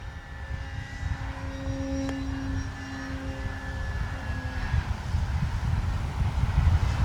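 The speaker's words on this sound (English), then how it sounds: "Take off flaps into the wind now." A Flex Innovations RV-8 60E G2 electric RC model airplane flies overhead on a windy day, its motor whine holding steady tones that shift in pitch as it passes, over continuous wind rumble, with no talking.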